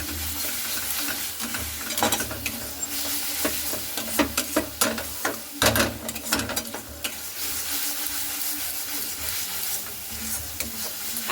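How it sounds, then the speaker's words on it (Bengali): Kashmiri chilli powder masala frying in a pan is stirred steadily, a continuous close sizzle with repeated scraping strokes of the spoon across the pan, no voices. "এরপরে কাশ্মীরি লঙ্কার গুঁড়োটা দিয়েও খুব সুন্দর করে নাড়াচাড়া করে নেব।"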